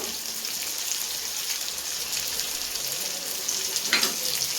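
Duck meat frying with chilli, coriander, cumin and turmeric powders, giving a steady, dense sizzle throughout with a brief louder crackle near the end.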